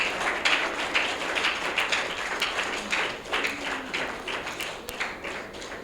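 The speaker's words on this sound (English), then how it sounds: "Please, another round of applause." An audience breaks into a fairly even round of clapping after a speech by Peter Obi on Nigeria, heard somewhat distant and continuing steadily throughout.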